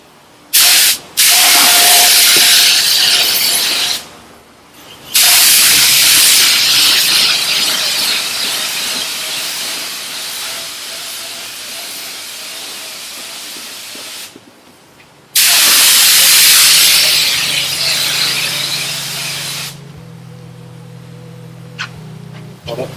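An aerosol sprayer hisses in long, loud bursts separated by short pauses during a tune-up on a Nissan S15, with softer rubbing and squealing sounds and a hum between bursts.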